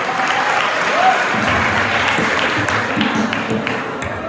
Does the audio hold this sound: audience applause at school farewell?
yes